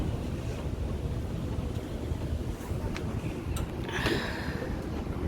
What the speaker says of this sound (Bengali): এখানে বাতাস আছে প্রচুর